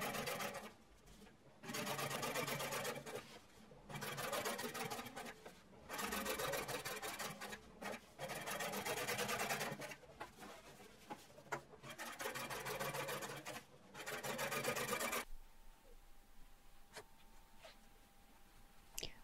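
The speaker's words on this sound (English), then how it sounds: "Double top stitch the top of the pocket." A sewing machine double top-stitches the top of a jeans pocket in six close, loud bursts of fast needle rattle, each separated by a short pause. A quiet, hushed stretch follows at the end.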